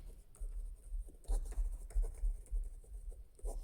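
Chalk or marker scratching out a maths solution on a board or paper during a Class 10 elimination-method lesson, steady bursts of short writing strokes with brief pauses, close and moderately loud, no talk.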